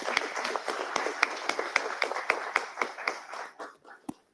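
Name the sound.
audience applause for the awardees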